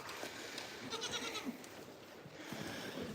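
Goats on a goat farm bleat faintly in the distance against a steady outdoor background hiss, with a few brief calls scattered through it.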